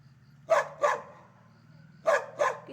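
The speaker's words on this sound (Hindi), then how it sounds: "कितनी डेंजर आवाज़ है डॉगी की" A black dog barks close by, four loud, sharp barks in two quick pairs, separated by a short pause, over a steady low hum.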